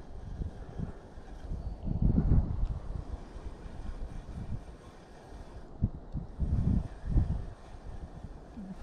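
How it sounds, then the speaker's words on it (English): Gusty wind blowing across a pond, rumbling in low buffeting surges against the microphone that rise and fade, with no talking. "that wind is kicking."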